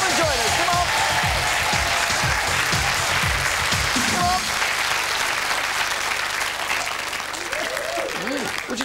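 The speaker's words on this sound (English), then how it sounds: "So I want you to give them a nice big cheer." Loud audience applause with cheering in a television studio on a 1991 dating show, continuous clapping through the whole stretch with voices mixed in.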